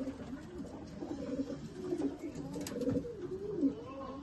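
Pigeons in a loft giving soft, low cooing calls that ripple on continuously, fairly quiet, with faint background noise and no clear talk.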